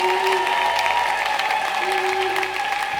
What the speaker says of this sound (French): Applaudis très bien pour Jésus-Christ.